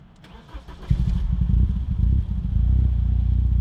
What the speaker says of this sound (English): there's nothing left to do now but start it up